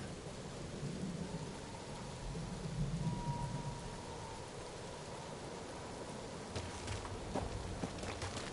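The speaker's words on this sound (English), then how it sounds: "Well, at least the storm's not quite as bad as it was." Steady rain and a rumbling thunderstorm from the Guardians of the Galaxy video game, a continuous wash of rainfall with low thunder rolls and a few sharp drips near the end, with no voices.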